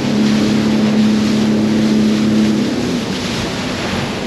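A ship's engine at full throttle pushing out onto a lake, a loud steady rumble with a droning tone under broad water and wind wash, continuous throughout.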